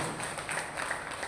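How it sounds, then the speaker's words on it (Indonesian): Audience applause, a short burst of steady clapping from a crowd that holds at an even level throughout, with no talking. "Tepuk tangan dong yang meriah"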